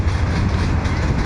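A train rumbles by close at hand with a steady, dense low roar and a faint clatter of wheels over rails, continuous for the whole moment with no voices.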